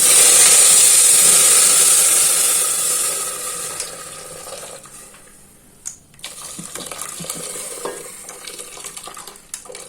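Reserved cooking water from boiled greens is poured into a pan of garlic and cumin frying in oil. A loud, bright sizzle bursts up at once, fades over a few seconds, and leaves quieter bubbling with small clinks.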